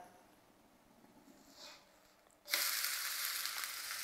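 A wheat flour vegetable pancake frying in an oiled pan: a faint hiss at first, then a loud, steady sizzle bursts in and holds as the pancake is flipped onto its other side.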